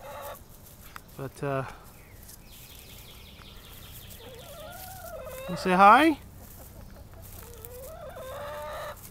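Backyard chickens in a garden run cluck and squawk in short bursts, with one louder rising cry near the middle and softer chatter around it, while a person briefly speaks nearby.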